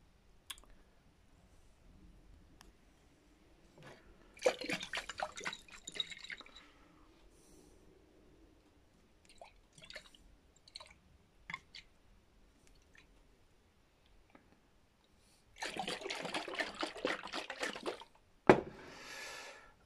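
Rosemary seeds and water are shaken inside a closed glass jar with the lid screwed on, giving two bursts of dense rattling and sloshing, each a couple of seconds long, set among scattered small clicks and handling knocks.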